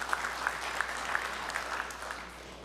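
A church congregation claps continuously in a sustained, fairly distant wash of applause, with a few sharper claps standing out at an even beat.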